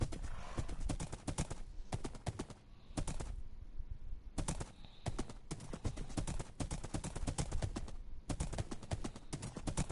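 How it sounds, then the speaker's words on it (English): Horse hooves clip-clop in the video game Minecraft, a rapid, loud, rhythmic run of clacking hoofbeats in bursts with brief pauses between them, heard alone without talk. "we can just ride home. That was a good jump. Good job, horse."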